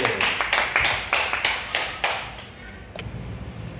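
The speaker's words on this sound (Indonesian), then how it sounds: "Tepuk tangan untuk kelompok Indi dan Nurul" A classroom of pupils claps for a group that has just finished presenting, several loud bursts of applause in quick succession before it trails off.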